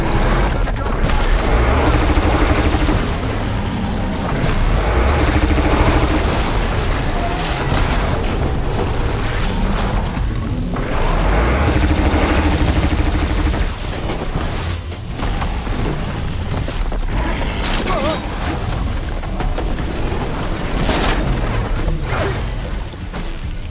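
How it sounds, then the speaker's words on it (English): Heavy cannon fire from Ravager cannons in the Horizon video game, a dense, continuous barrage of loud booms and blasts layered with mechanical clatter, sustained and close throughout. "There's plenty dead Ravagers around. We can use their cannons!"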